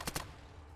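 A weapon fires in the ATOM RPG video game, two rapid sharp bursts in quick succession followed by a fading tail, brief and fairly faint.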